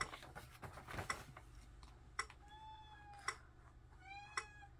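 A house cat meows several times in a quiet indoor room, the calls rising and falling with faint ticks and small knocks between them.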